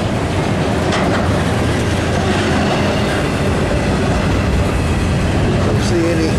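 A double-stack intermodal freight train led by three AC44 locomotives rumbles past close by with a loud, continuous roar and faint clickety-clack of wheels on rails, steady throughout.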